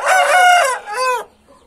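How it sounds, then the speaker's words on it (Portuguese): A rooster crows up close and loud, one full cock-a-doodle-doo in two rising and falling parts that ends sharply, with near silence after. "esse é o galo que eu peguei"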